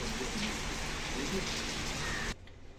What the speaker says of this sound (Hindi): और अभी तक ये सितंबर के महीने में भी बारिश ही हो रही है